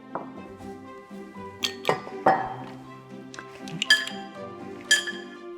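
Prepared mussels dropped into a bowl in a kitchen, giving a series of sharp shell clinks and taps at irregular intervals, close and clear against a quiet background.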